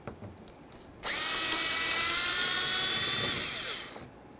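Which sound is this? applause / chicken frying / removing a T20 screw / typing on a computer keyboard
removing a T20 screw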